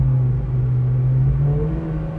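Honda Integra Type R accelerating hard in second gear, a loud, close engine drone whose pitch climbs steadily as the revs build, with no talking.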